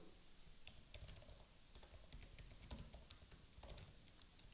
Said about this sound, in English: let's go ahead and type testimonials swiper